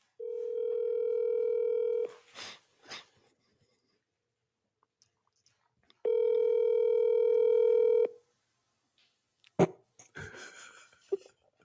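A telephone line sounds two steady two-second tones separated by silence, followed by faint clicks and handling noise as a live call connects, quiet and close.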